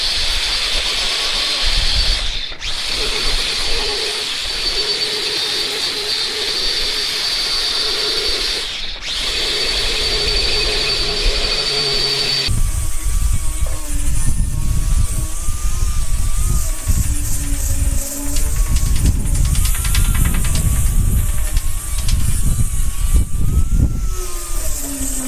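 Sanding and grinding the hull of a barge with power tools, a loud steady whine with two brief pauses, then a rougher, harsher grinding stretch in the second half.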